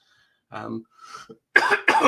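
A couple of short, harsh coughs close to the mic, followed by two louder bursts of throat noise, with no speech.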